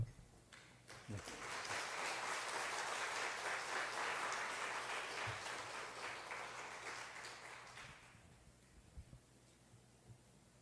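A church congregation breaks into sustained applause to welcome a pastor to the pulpit, a dense roomful of clapping that holds steady for several seconds and then thins out and fades, with no talking over it.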